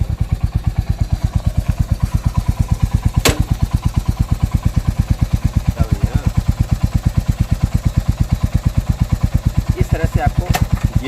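Royal Enfield Hunter 350 single-cylinder engine idling close by with a steady, even thump throughout, a couple of brief clicks as the clutch is pulled and first gear is engaged, with someone talking over it.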